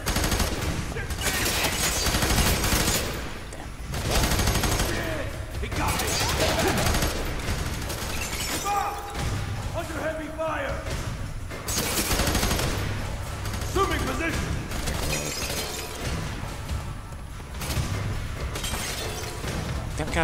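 Sustained suppressing gunfire in the shooter game F.E.A.R. 3, with dense automatic bursts rattling almost continuously for twenty seconds, broken by short lulls and shattering impacts, loud and close with game dialogue shouted over it.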